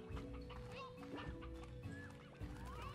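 Chickens in the farming game Slime Rancher cluck and squawk in a dense, busy flock, many overlapping calls at a fairly faint level with no talk over them.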